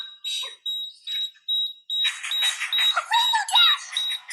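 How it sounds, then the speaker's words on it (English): A high electronic tone from an EMF detector beeps repeatedly in short regular pulses, then continues beneath a person talking over it. "It's still beeping."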